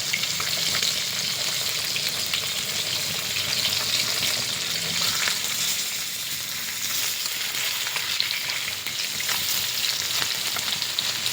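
Food frying in a pan, a loud, dense, unbroken sizzle holding steady from start to finish with faint crackles.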